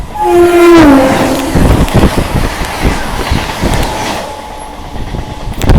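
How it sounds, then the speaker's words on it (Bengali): A Howrah to Kharagpur local train sounds its horn in a loud opening blast, then wheels clatter in a quick rhythmic beat over the rails as the ride continues close and steady. "আবারও লোকাল ট্রেন জার্নি করছি"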